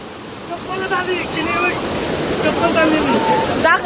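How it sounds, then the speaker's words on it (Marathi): Water rushes and surges at Bhushi Dam in Lonavala as a loud, constant wash. Several people's voices call and chatter over the roar. "हे बघा फोर्स वाढला पाण्याचा"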